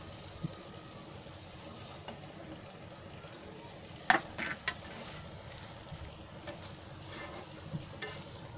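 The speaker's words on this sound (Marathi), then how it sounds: "आता याच्यामध्ये आहे ना ही बटाटी टाकते, जे फोडं केले ती टाकते." Chopped potato pieces go into a pan and fry with a soft sizzle, broken by a few clinks and scrapes of stirring, loudest around the middle.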